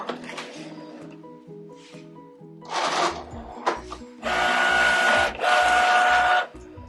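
A Cricut Explore Air 4 cutting machine loads a cutting mat, giving close mechanical whirs, stepping motor pulses and beeping tones in short bursts, with no talk.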